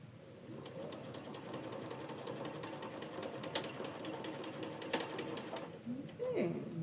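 A sewing machine stitches an apron with steady, fast mechanical whirring that runs through most of the clip, pausing briefly near the end while someone talks over it.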